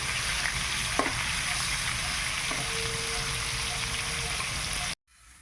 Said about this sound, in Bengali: মাছটাকে ভাজতে দিয়ে দিয়েছি।